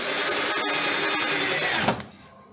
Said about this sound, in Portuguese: Eu vou escarear aqui a cabeça com o parafuso. Uma broca maior e vou parafusar.